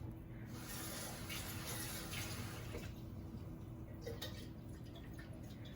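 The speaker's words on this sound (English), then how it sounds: "I'm going to go ahead and add some water to our cans" Water runs from a tap into condensed milk cans while Kremas is being made, a soft, uneven splashing and trickling with small bursts near the start and the end, with no one talking.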